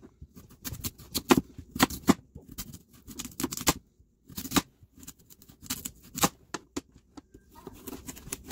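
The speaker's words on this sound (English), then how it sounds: "I gave the yams a rough chop" A knife roughly chops yams in irregular bursts of sharp, close cuts and knocks, separated by brief pauses.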